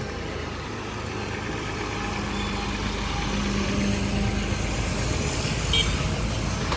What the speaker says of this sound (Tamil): டிராக்டர் வண்டி வாகனங்கள் பின்னால் காருகள்